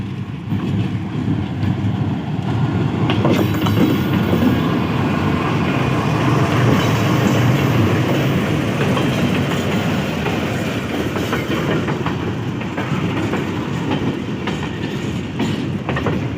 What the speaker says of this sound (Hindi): एक डबल ब्रेक वैन के साथ है ये ट्रेन।